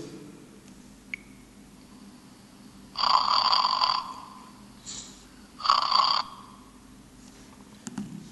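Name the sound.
recorded snoring played back in an anti-snoring app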